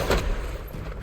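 A Confringo spell blast in Hogwarts Legacy lands as a loud, close burst with a heavy low boom that quickly trails off into a rumbling decay, a single explosive hit.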